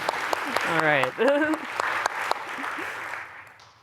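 Scattered audience applause at a tech product presentation, moderately loud and continuous behind someone speaking briefly, fading out toward the end.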